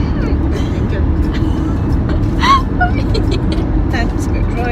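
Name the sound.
car overtaking another vehicle on the road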